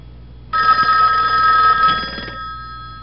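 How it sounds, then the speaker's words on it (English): A 1958 Northern Electric 554 black wall telephone rings its mechanical bell loudly and up close, one sustained metallic ring of about two seconds with no talking over it, then it stops. "This is a very loud phone,"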